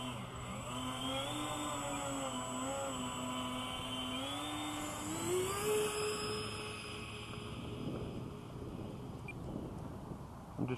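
FMS A10 model jet taxiing across a grass field, its ducted-fan motor giving a continuous whine that shifts in pitch as the throttle changes, with wind buffeting and rough rolling noise, fading somewhat toward the end.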